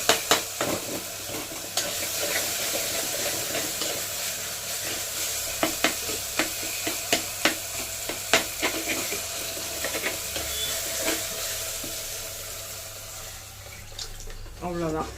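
Masala sautéing in a pan, a steady sizzle with repeated sharp clinks and scrapes of a spoon stirring, fairly close, with faint background activity and no clear talk.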